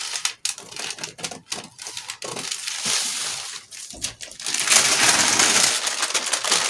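Scissors cutting through a paper body pattern at the back neck, a string of crisp snipping and rustling sounds close up, followed by a longer continuous crinkling stretch of paper handling.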